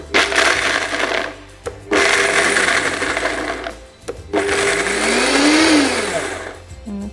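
A Vitamix blender set to speed 10 pulses macadamia nuts in three loud bursts with short pauses between, a grinding roar that rises and falls in pitch within each burst.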